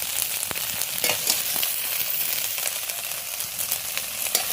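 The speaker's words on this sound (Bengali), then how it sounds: "সয়াবিনটা বেশি ভাজবো না, অনেকটাই তেল দিয়ে ভেজেছি" Soybean chunks fry in plenty of oil, a close, steady crackling sizzle punctuated by sharp spatters and pops, with no voices.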